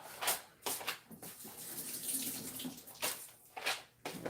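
A tap runs over chopped potatoes as they are rinsed in a sink, the water splashing in uneven bursts that swell and fade across a few seconds, close and alone.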